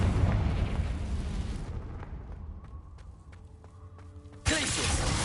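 A Confringo blasting spell from the Hogwarts Legacy video game: a loud, broad explosive roar that slowly decays, a quieter stretch with faint tonal ringing and small clicks, then a sudden second loud burst near the end.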